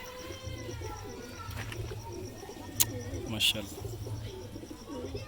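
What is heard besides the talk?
teddy pigeons cooing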